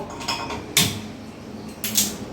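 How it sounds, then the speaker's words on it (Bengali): A gas stove knob is turned to light the burner in a home kitchen, making two short, close metallic clicks with a faint mechanical creak between them. "আমি এখানে গ্যাসটা ধরিয়ে নেবো।"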